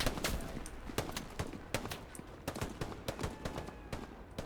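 Rapid bursts of gunfire from Hell Let Loose, a World War II shooter, crack out in a dense stream of sharp shots, some close and loud, others farther off, with no talk over them.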